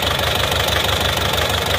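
A car engine idles just after a cold start with a crankshaft pulley fault, giving a steady, rapid knocking and rumbling vibration that is loud and continuous throughout.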